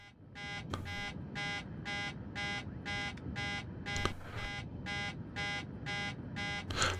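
In the MSFS 2024 flight simulator cockpit, an insistent alert beep pulses in a fast, regular rhythm of short tones, clear and continuous above a soft background rumble.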